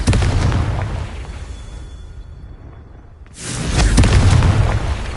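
A Confringo fire spell in the Hogwarts Legacy video game unleashes a loud booming explosion that fades into a rumbling tail, followed by a second heavy blast with a whooshing burst.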